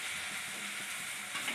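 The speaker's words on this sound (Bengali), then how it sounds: "মাছ কটা একটু ভেজে নি, চিংড়ি মাছ খুব কড়া ভাজে দিতে নেই" Prawns frying in a pan, a soft, steady crackling sizzle that stays even and close throughout the short stretch, with no voices.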